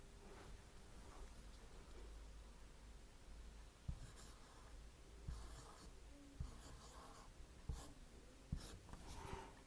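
Pen or marker writing on paper or a board during a language lesson, a steady faint scratching with a few sharp taps of the tip, close and quiet over a constant low room hum.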